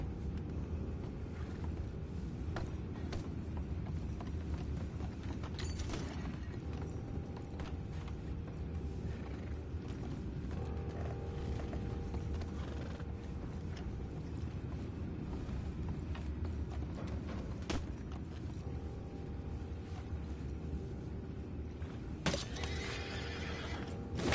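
Horses in the video game Red Dead Redemption 2 neigh and whinny over a steady ambient bed, with occasional hoof clops and wooden creaks scattered through the long stretch.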